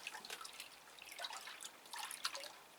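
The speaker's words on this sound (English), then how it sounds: "Give it a good stir." Liquid sloshing and dripping as an orchid is stirred in a bucket of bleach water, soft irregular splashes and trickles close by with no voices.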